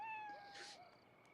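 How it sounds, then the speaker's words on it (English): A black cat meows in the video game Costume Quest, a single faint, drawn-out cry under quiet game ambience and a soft music tone. "Ooh, but now there's a black cat."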